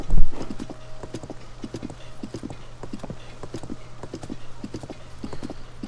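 Horse hooves clip-clop in a steady rhythmic trot across a path in the video game Tears of the Kingdom, clear and close over a low ambient drone, with a brief louder thump at the start.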